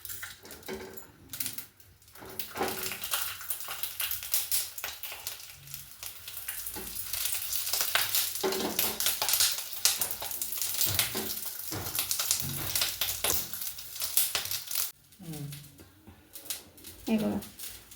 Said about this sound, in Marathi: ते गरम झालं की याच्यामध्ये मिरच्या थोडं हे बघा असं भाजून घ्यायच्या मिरच्या